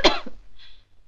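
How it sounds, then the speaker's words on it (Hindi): A man coughs in a 1975 Hindi film scene set in a doctor's consulting room: one close, sharp cough burst at the start, followed by a brief softer tail and then near silence. "मुझे खांसी भी आती है"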